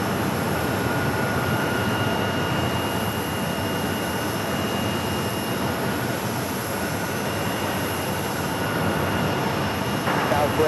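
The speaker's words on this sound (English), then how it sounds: "That is a CRJ 700" A SkyWest CRJ 700 regional jet at Phoenix Sky Harbor airport gives a steady, broad jet-engine roar that holds throughout at moderate loudness, with a faint airport background and no clear talk over it.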